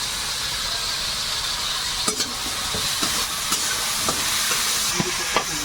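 Potatoes fry in hot oil in a pan with salt and turmeric, dried chillies and chopped garlic, giving a steady close sizzle and hiss with several light scrapes and taps of stirring scattered through.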